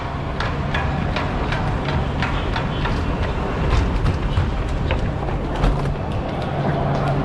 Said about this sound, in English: Train is here, baby.